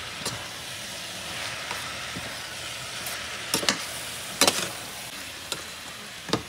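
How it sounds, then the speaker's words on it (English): Garlic stir-frying in hot oil, giving a steady soft sizzle with occasional sharp crackles and spatters throughout. "The garlic itself give it a flavor when you burn it in the oil."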